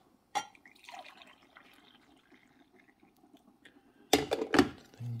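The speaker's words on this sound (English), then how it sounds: "We're gonna pour a cup." Brewed coffee from an Amazon Basics 5-cup coffee maker is poured into a cup, a soft liquid trickle with a sharp clink at the start and louder glass knocks near the end, recorded up close indoors.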